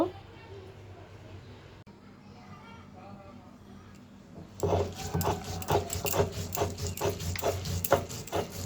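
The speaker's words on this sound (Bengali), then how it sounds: "এখন এটা আমি পাটায় পিষে নিব।" Soaked lentils are ground by hand on a stone grinding slab, the stone rubbing back and forth in a steady rasping rhythm, close and fairly loud after a quieter start with some soft background talk.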